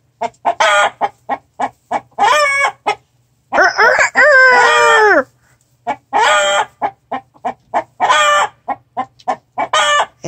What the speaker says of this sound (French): C'est-à-dire qu'il crie comme une poule qui pond, alors qu'il tente de coller la poule.